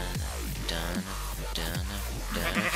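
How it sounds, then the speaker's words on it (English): Sheep in Minecraft bleating repeatedly, several wavering calls in quick succession, loud and close. "Sheep."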